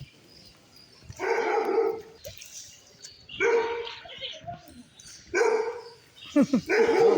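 A dog barks in four loud, close bursts of rough barking, separated by short quiet gaps.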